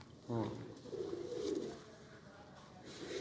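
Pigeons of an old, special bloodline coo softly at close range in a loft, low throaty calls repeating under a man's speech.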